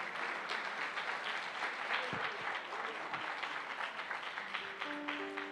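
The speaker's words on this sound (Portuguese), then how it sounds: "bate mais uma forte salva de palmas para o Senhor Jesus." A church congregation applauds during a sermon, giving sustained moderate clapping heard from within the room over several seconds, with a few faint voices and a brief tone near the end.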